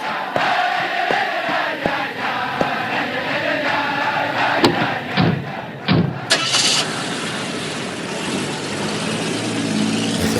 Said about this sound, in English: As the Rebbe's car is pulling away, the crowd was ecstatic and jubilant